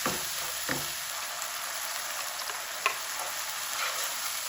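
Onions frying with a little added water in a pan for liver masala, a constant hissing sizzle with a few faint stirring taps, close and steady.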